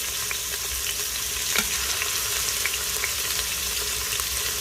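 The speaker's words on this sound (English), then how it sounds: "So you turn that saute function on, you can brown your meat." Meat browns on the saute function of an Instant Pot, giving a continuous bright sizzle with scattered sharp crackles and a brief stirring scrape, close and without talk.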